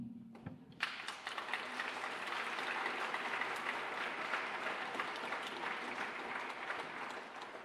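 Applause at a school sophomore meeting: a sudden burst of many hands clapping from an audience, holding steady and dense for several seconds at moderate distance.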